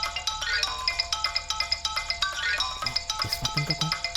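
A mobile phone ringtone plays alone as a repeating, regular electronic melody with steady pulses throughout, fairly clear and close.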